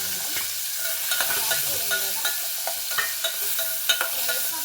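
Curry leaves with coriander, chili and turmeric powders fry in a pan, a steady close sizzle broken by repeated scraping stirs and small clatters of a spoon against the pan, no voices.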